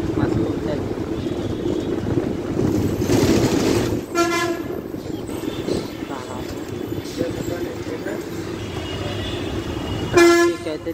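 Busy Hyderabad road traffic with a steady roar of engines, a bus moving along the route from Mehdipatnam to Sanathnagar, and two sharp horn blasts, one near the middle and one near the end; people talk faintly in the background.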